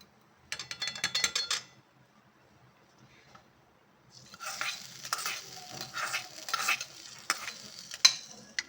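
Hot oil tempering sizzling with bursts of stirring and scraping in a pan as it goes over black chickpea curry, a brief pause, then steady crackling frying.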